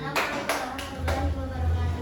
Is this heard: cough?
no